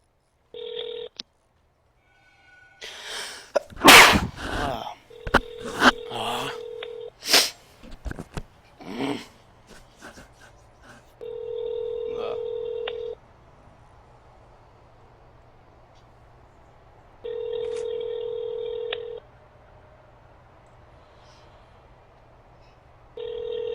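A phone on speakerphone places a call: scattered dialing and handling noises come first, then a ringback tone repeats in steady two-second pulses with long gaps between them, clear and close.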